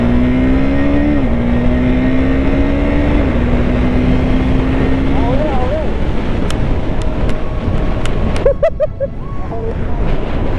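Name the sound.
KTM RC 390 motorcycle engine revving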